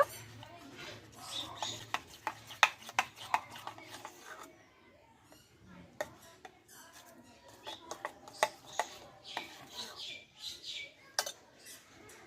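A utensil stirs rice-flour batter for dudh pitha with baking powder, giving quick wet clicks and taps against a bowl in uneven bursts, fairly quiet, with a voice speaking over parts of it.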